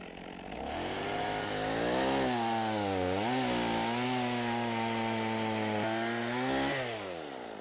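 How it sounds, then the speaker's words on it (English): A chainsaw cuts firewood to short stove lengths outdoors, its engine held at a loud steady roar close by, the pitch dipping and recovering as the chain bites through the wood. "Let me show you how to use the chainsaw bar as a guide to measure the pieces so they all end up the same length."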